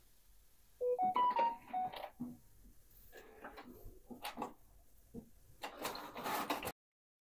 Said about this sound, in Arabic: طبعت لنا ورقه من الموبايل بكل سهوله